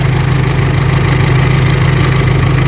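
A cold Mitsubishi L200 Triton pickup with the 3.2 engine idles steadily up close, a loud, even low rumble with a faint mechanical tick and no voices.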